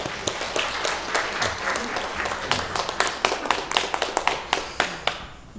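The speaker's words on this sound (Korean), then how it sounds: "우리 박수를 한번 하냐 하시죠" Applause from a church congregation during a Sunday worship service, a steady wash of many hands clapping with sharper individual claps standing out near the end.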